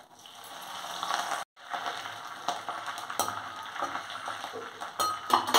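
Chana dal dropped into hot oil and frying for lemon rice, a crackling sizzle with light stirring and utensil clinks, close and fairly loud, interrupted by one brief silent gap.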